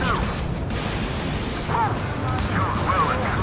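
Rumbling explosions and booms in the air-combat video game Ace Combat 7: Skies Unknown, with an oil tanker and ships blown up, form a dense continuous roar while a voice talks faintly over the blasts.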